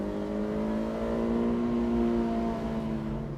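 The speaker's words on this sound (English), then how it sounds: "You do have to rev the heck out of this car to go anywhere." A Honda S2000 engine revs hard toward a high pitch while driving, with a steady, rising whine over road rumble and nothing else heard.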